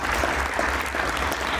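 An audience claps at a school's annual prize distribution, a short, loud, steady wash of many hands applauding with no voices over it.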